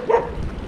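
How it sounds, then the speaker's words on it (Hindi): A dog barking once in a North Sikkim mountain village, a short, fairly close bark rising over steady outdoor background noise. "कुत्ता भूख रहा है"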